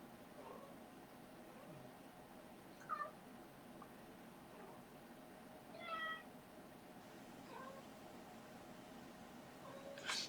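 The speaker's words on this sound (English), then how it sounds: "My kitty is going crazy meowing." A house cat meows indoors in short, faint calls spaced a few seconds apart, the last one rising higher, over a steady low room hum with no talking.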